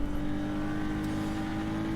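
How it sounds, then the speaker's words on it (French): A BMW M2 CS engine in the racing game rFactor 2: a steady, loud engine drone with a strong constant tone, held at even revs throughout with no talk. "Je trouve que vraiment on a un beau son de moteur, assez rock."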